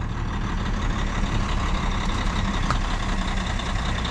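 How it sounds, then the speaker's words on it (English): A generator truck engine runs steadily at a fair build-up in Crowcroft Park, a continuous low diesel rumble at an even, fairly loud level throughout with no voices. "Oh, now you'll get to see the generator truck being started up."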